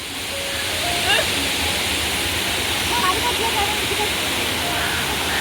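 Water pours down a waterfall at Aruvikkuzhi in Kottayam as a steady, loud broadband rush that stays constant throughout, with faint faraway voices and birdlike chirps above it.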